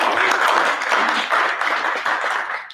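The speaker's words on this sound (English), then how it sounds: "So let's give that a round of applause." Audience applause at a large cyber security summit in Africa, dense continuous clapping from a crowd that holds steady for a few seconds and then tails off.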